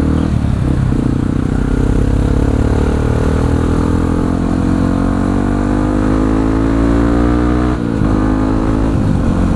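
A Yamaha WR155R motorcycle at speed in fifth gear, its engine droning loud and close with a steadily rising pitch as it keeps accelerating, plus a brief dip near the end.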